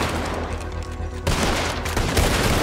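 Gunfire in the Red Dead Redemption 2 video game: loud shots crack with a sharp burst at about the midpoint and another near the end, and dense game ambience runs throughout.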